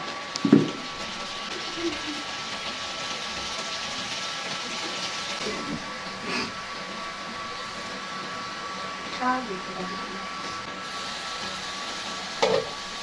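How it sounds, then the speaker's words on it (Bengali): Chicken masala sautés in oil in a pan, giving a steady broad sizzling hiss throughout, close and even, with a few faint clinks or scrapes against the pan. "মশলাগুলোর উপরে তেল ভেসে ওঠা পর্যন্ত কষিয়ে নিলাম"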